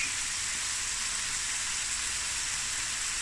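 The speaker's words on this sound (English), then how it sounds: "And this will fry." Chicken chow mein stir frying in a hot pan, giving a steady, loud, continuous sizzle that holds even and unbroken throughout, with no talking over it.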